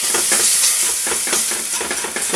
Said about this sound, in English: So the butter's melting now